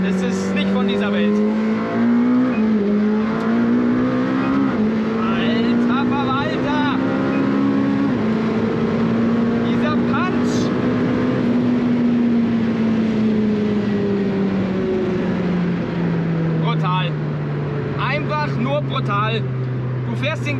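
McLaren Senna supercar at speed, a loud continuous engine drone whose pitch rises and falls with throttle, heard from the cabin under steady, excited talk.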